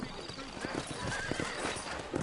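Horses trot with hooves clip-clopping in a steady rhythm, with a horse's whinny and speech over the top, in the video game Red Dead Redemption.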